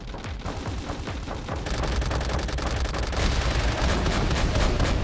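Heavy battlefield gunfire in Call of Duty: World at War crackles in loud, continuous overlapping bursts, growing denser and rougher after the first second and a half.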